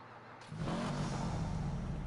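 A Sultan RS car in GTA revs up after a brief quiet start, its engine swelling into a loud, sustained roar with a steady low growl that holds to the end.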